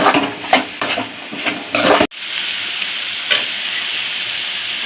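Paneer fried rice is stirred and tossed in a hot pan, giving a steady sizzle with scraping strokes and a brief break partway through.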